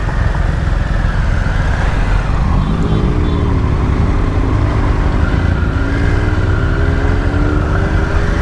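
Superbikes including a BMW R 1250 GS Adventure Rallye riding together, a steady loud engine drone with rising and falling harmonic whine as they cruise, no talk.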